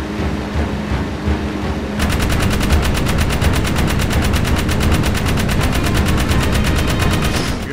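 Rapid automatic gunfire from a lock-on weapon in the video game Jak 3 rattles out as a dense, steady stream of loud shots, starting abruptly and continuing without pause over a low background.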